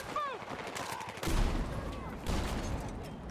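Sniper rifle shots and heavy gunfire in the first-person shooter Battlefield 6, loud broadband blasts and booming reports layered with battle noise, a sharp burst around a second in and another later, with faint talk underneath.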